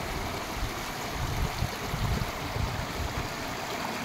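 Flood water flowing strongly, a continuous rushing roar with a low rumbling churn, steady and close with no voices.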